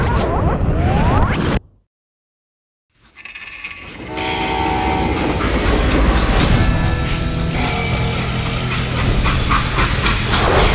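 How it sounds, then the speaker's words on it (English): A freight train in the Western shooter Call of Juarez: Gunslinger rumbles loudly and steadily after a brief silence, with a whistle and rolling wagon noise under continuous rail clatter. "They hopped a freight train"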